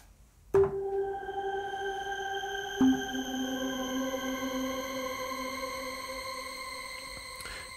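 Sustained tonal notes ring out over long shimmering shimmer-reverb tails in Ableton, with new tones entering 12 semitones higher and layering into a bright, steady wash, fairly quiet.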